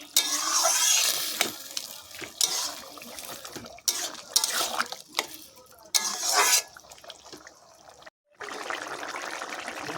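Prawn and melon curry being stirred in a pan, with wet scraping and sloshing bursts broken by short pauses and a brief silence near the end.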